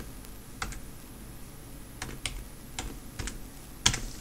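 Keys tap on a computer keyboard in short irregular clusters, soft and close, ending with a slightly louder keystroke, with no voices over the quiet background.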